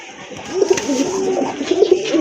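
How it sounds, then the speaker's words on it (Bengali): A pair of sky-blue pigeons, a male and a female, coo at a pigeon seller's stall. Their low, throaty coos repeat steadily and sit close to the listener over a light background hiss. "ওই যে ওইটা হচ্ছে আপনার নর কবুতর"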